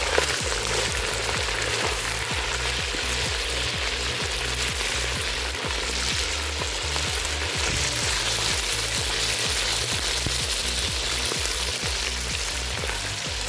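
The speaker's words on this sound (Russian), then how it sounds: "Обжариваем мясо до золотистой корочки." Meat fries in hot oil in a kazan over a campfire while plov is made. A loud, steady sizzle runs throughout, with regular low scraping knocks from stirring and no talking.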